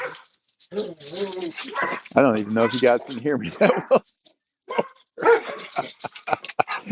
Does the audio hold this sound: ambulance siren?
no